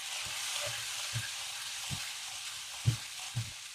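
Paneer fries in a pan under a constant soft hiss. Low knocks from stirring or turning the pieces recur at a loose, slow rhythm, heard close with no speech.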